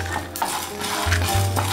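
Coconut and cumin seed dry roasting in a pan for Mysore rasam, with steady stirring scrapes and light clinks of a utensil against the pan, close and continuous, with no talking.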